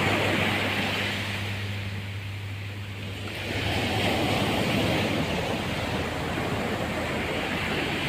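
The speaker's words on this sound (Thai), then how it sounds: "ดูคลื่นทะเลครับนี่ครับ" Sea waves break on an eroding beach lined with pine and tropical almond trees under strong wind, making a continuous broad roar that swells midway, with wind buffeting the microphone and no voices.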